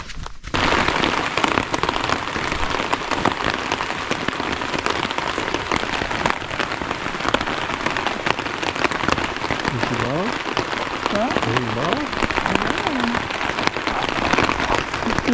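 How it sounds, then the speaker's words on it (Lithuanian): Steady, close rain patters down on a surface through a cold, wet summer night on a road trip through Latvia and Estonia, a dense continuous hiss with a few faint voices murmuring underneath. "Lyja."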